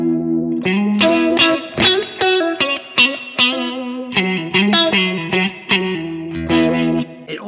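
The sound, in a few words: 4-stage phaser pedal (All-Pedal Microdose Phaser)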